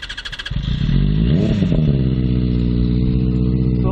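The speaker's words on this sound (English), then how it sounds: "Let us hear the exhaust note" A Benelli 600i inline-four motorcycle fitted with an IXIL exhaust starts up and settles into a loud, close, smooth engine note, with a brief rise and fall in revs before holding steady.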